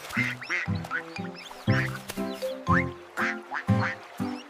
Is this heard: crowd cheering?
no